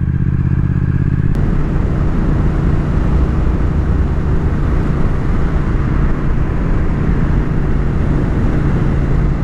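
A Triumph Thruxton RS motorcycle cruising in sixth gear at about 100 km/h and 3300 rpm, a loud steady engine drone with heavy wind rush, continuous and close throughout, with no one speaking.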